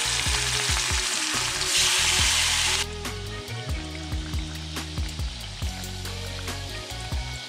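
Loud, steady sizzling of chicken frying in hot oil, with scattered pops and crackles, close by and without any talking.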